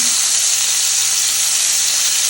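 Fish dropped into hot oil in a pan, a loud, steady, close sizzle with bright hissing spread evenly throughout and nothing else heard.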